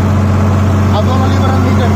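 A Sonalika DI 35 tractor, fresh from the showroom with a 7-foot rotavator attached, runs in second gear with a loud, close, steady diesel drone and unbroken low engine hum.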